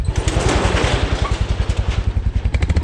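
A rented motorcycle idles in Kaza, Spiti Valley, its engine thumping in a steady, rapid low pulse with mechanical clatter, close and loud throughout, with no voices over it.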